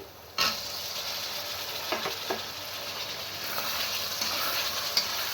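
Boiled taro dropped into a sizzling spice paste in a pan, a sudden jump in steady frying hiss, then scattered stirring scrapes and crackles, close and fairly loud with no talking.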